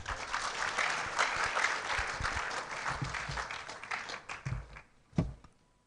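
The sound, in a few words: audience applause for a dean at an orientation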